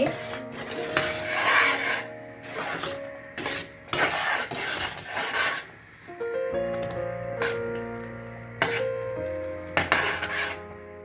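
A spoon scrapes and clatters against a metal pan while milk puttu mixture is stirred, with irregular rasping strokes and clinks close by, and a low steady hum underneath.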